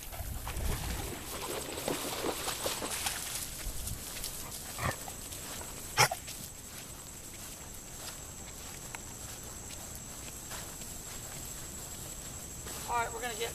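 A Labrador puppy outdoors makes scattered soft paw steps and rustles, with one sharp click midway, over a steady hiss of background noise.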